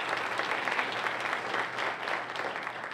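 An audience at a reading summit applauds, a dense steady wash of many hands clapping at moderate distance, fairly faint throughout.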